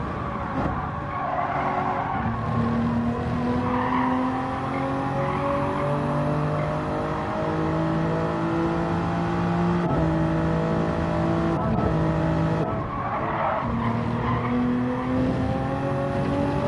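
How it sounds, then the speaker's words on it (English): A race car in a racing video game upshifts into fourth gear to avoid understeer. Its engine drones loud and steady with rising tones that step between gears, tire squeal runs underneath, and there is no talking. "Quick upshift to fourth to avoid understeer"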